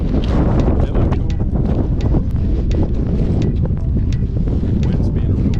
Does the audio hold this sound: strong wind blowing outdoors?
yes